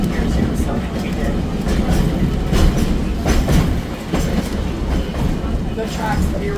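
The High Level Bridge streetcar in Edmonton rolls along former steam train tracks, wheels clacking in a steady rhythm over a loud, close rumble, with a voice talking over the running noise.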